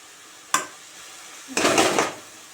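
Cooking pots are handled in a Punjabi village kitchen, one sharp metallic clank followed a second later by a longer scraping clatter of utensils, close and fairly quiet with no talking.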